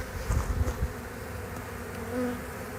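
Honeybees buzz and fan at a newly set up hive after a feral cut-out, a steady close insect drone with a few louder passing wingbeats early on.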